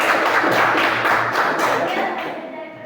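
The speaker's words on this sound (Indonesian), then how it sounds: "tepuk tangan untuk kelompok 1" A classroom group claps for presenting students, a dense patter of hands close by that fades out after a few seconds.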